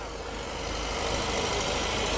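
A Vauxhall Chevette hatchback pulls into a classic car show, its engine a steady close rumble that grows slightly louder over a couple of seconds with no talking.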